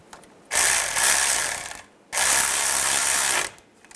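A ratchet tightens the wheel speed sensor bolt on a Toyota Prius during front lower ball joint work, giving two close, loud bursts of rapid clicking, each about a second and a half long, separated by a brief pause.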